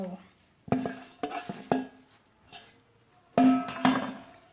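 Holy basil leaves pressed down into a beef and pumpkin curry in a pot, several distinct clanks and scrapes of a utensil against the pot with quiet gaps between, close by and with no talking.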